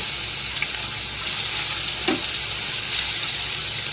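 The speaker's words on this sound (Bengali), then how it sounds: "মাছগুলোকে একদম হালকা করে ভেজে নেব। এই যে দিয়ে দিচ্ছি।" Small freshwater fish such as jagur, shing and koi fry in hot oil, a steady loud sizzle filling the whole stretch with a brief splash as a piece goes in, no voices.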